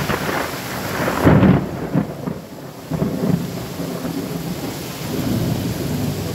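Thunderstorm with heavy rain, a loud thunder rumble rolling in early and again briefly later over a steady roar of downpour close by.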